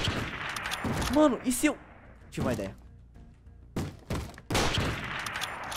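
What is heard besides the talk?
gunfire in the Minecraft series The Walking Craft, video game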